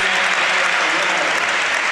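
A football crowd at a Premier League match between Everton and Chelsea applauds a substituted player as he leaves the pitch, a loud, dense, continuous wash of clapping from the stands throughout.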